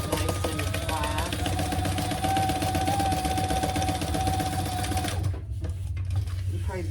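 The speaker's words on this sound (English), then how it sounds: "So I'm going to stitch across the top, just a real 1/8 inch basting stitch," A sewing machine runs a steady, continuous 1/8 inch basting stitch across the top of a crossbody bag, a dense mechanical whir that holds for about five seconds before stopping abruptly.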